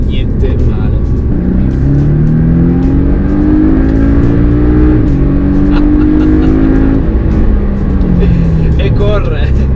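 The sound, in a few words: Porsche 718 Boxster S engine revving while accelerating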